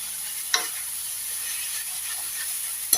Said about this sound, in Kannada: ಒಂದು 5ರಿಂದ 10 ನಿಮಿಷ ತಗೊಳುತ್ತೆ ಈ ಸೊಪ್ಪು ಫ್ರೈ ಆಗಲಿಕ್ಕೆ.